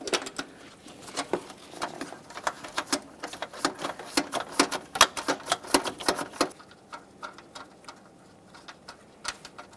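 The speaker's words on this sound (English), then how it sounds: "I'm going to be using a 10mm ratcheting wrench" A 10mm ratcheting wrench clicks rapidly while backing off a mounting nut on a 2009-2014 Nissan Maxima 3.5L V6, close ticking in quick bursts that thins out and softens near the end.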